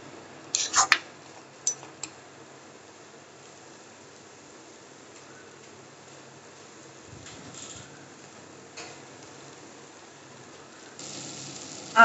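Masala with red chilli being stirred and fried in a pan for an egg dish, heard as a few sharp utensil scrapes and clinks near the start, then a faint low sizzle with occasional light stirring knocks.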